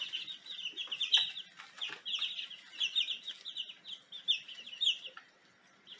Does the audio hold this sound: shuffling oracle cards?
no